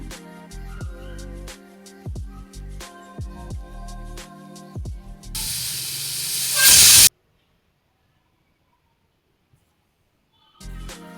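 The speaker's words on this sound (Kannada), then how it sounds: "ಕುಕ್ಕರ್ನ ಲಿಡ್ ಮುಚ್ಚಿಬಿಟ್ಟು ಎರಡು ವಿಷಲ್ ಹಾಕಿಸ್ಕೊತೀನಿ" A pressure cooker holding fresh pigeon peas, potato, brinjal, jaggery and water lets off a loud, rising steam whistle-hiss for under two seconds after some soft clinks, then falls silent.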